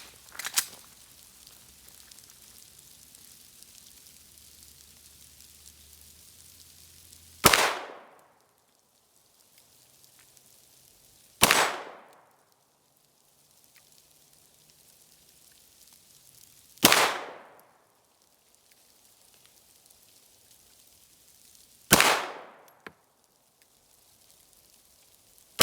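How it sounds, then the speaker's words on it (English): Five sharp pistol shots from a Taran Tactical 2011 firing 115 grain rounds at 15 yards, loud and isolated, spaced several seconds apart with quiet gaps and a short ringing decay after each. "So let's get to shooting this thing at 15 yards."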